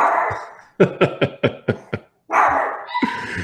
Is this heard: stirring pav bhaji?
no